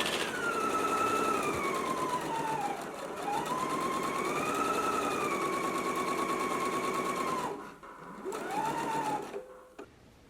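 Sewing machine running steadily as it stitches a long fabric strap seam for a maxi tuck gather dress, a continuous close whir with pitch rising and falling as speed changes, pausing briefly near the end before a short final burst.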